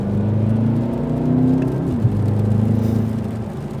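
The Mercedes-AMG S 63 E Performance with its V8 engine hums in a steady, low, smooth drone, a constant even tone with a brief dip and bump partway through, and no talk over it.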